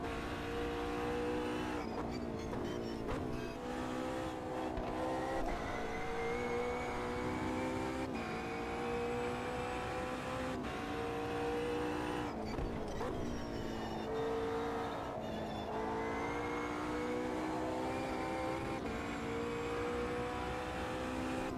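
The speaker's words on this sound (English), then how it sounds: "This car sounds nice." Race car engine in the sim racing game Automobilista 2, a steady loud drone with shifting harmonic tones as it revs up and down through gears, continuous and alone without talk.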